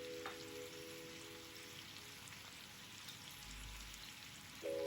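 Spices sautéed on high flame for pizza sauce make a faint, even sizzle that runs throughout with a soft hum beneath and a brief clink near the end, no talking.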